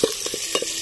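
Ingredients for native chicken adobo with coconut milk, including lemongrass and garlic, are stirred in a pan over heat: five quick scraping strokes with a faint sizzle beneath, close and alone.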